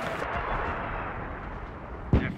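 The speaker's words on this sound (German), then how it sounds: "Ich muss eine Granate fallen lassen." A grenade detonating in the World War II shooter Enlisted, a single sharp close blast near the end, following a stretch of dense rumbling gunfire and battle noise.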